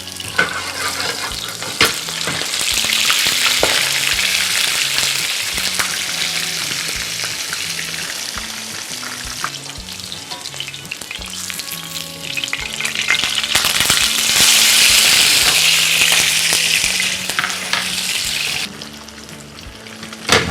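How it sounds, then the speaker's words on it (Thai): Steady, loud sizzling and crackling of salmon skin frying in a hot pan, with occasional clinks of a utensil, continuing without talk. "ผมจะทอดปลากระทะนี้นะครับแซลมอนที่เราหั่นเอาไว้เมื่อกี้เรียกว่าทั้งหนังเลยเดี๋ยวจะทอดหนังก่อนให้กรอบครับ"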